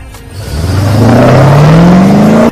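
A Chevrolet Camaro engine revs up steadily and loudly over about two seconds, its pitch climbing smoothly as the motor winds higher. It cuts off abruptly at the end, with no voices present.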